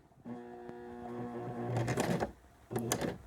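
Sewing machine stitching a zigzag bar tack for a buttonhole, a close whirring motor hum with rapid needle clatter in two short bursts separated by a brief pause, no voices.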